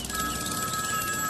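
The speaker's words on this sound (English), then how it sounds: "the mind-shattering sound of the ringing" A telephone bell rings continuously in a small town, a steady, insistent electronic trill that fills the moment at moderate loudness with no voices over it.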